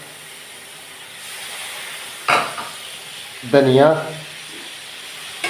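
Chicken pulao cooks in a pot, giving a soft steady sizzle with two bursts of stirring scrapes partway through, while a voice speaks briefly over it.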